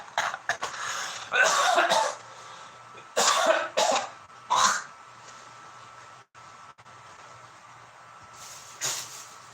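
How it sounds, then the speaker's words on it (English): A person coughs after smoking hemp, with several harsh bursts of close coughing in clusters. Quiet pauses fall between them, and a last cough comes near the end. "I don't like that hemp making me cough like that"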